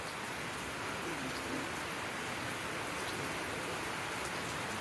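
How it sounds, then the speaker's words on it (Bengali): Steady rain pouring down in a village, a dense even hiss of drops on surfaces that holds at one low level from start to finish with no voices. "এই তো আবার বৃষ্টি নেমে গেছে"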